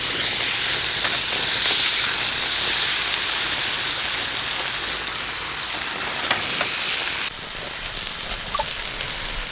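Loud, steady sizzling and hissing from a pan over an outdoor campfire, cooking sausages, steaks, and Brie cheese with tomatoes in white wine, a continuous close crackling sizzle with no talking.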